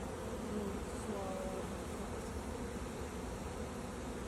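Honeybees buzzing around a beehive, a dense steady hum filling the whole stretch at moderate level, close and continuous, with no clear talk.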